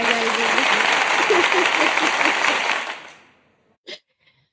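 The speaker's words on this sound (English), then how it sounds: "Hold on, I gotta give you some applause." Stock applause sound effect, a dense burst of crowd clapping at full loudness that fades out after about three seconds, followed by a brief faint click.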